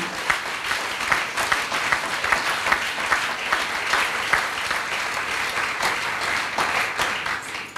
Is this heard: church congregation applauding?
yes